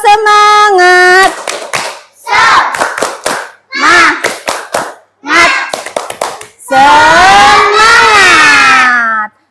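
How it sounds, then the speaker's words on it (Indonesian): Schoolchildren in a classroom chant and clap in a spirited rhythmic cheer, with loud bursts of voices and hand claps in several short phrases ending in a long sustained shout. "Tepuk semangat."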